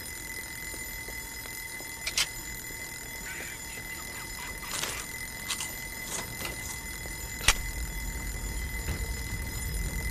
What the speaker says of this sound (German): Mach den scheiß Wecker aus, verdammt nochmal.